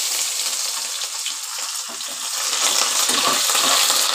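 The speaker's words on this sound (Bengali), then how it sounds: "নেড়ে নিয়ে এবার দিচ্ছি ফোড়নে পেঁয়াজ কুচি দিয়ে দিলাম।" Chopped onion hitting hot tempering oil in a pan for a bottle-gourd (lau) ghonto, giving a steady, close, broadband sizzle that swells a little louder toward the end, with no voices.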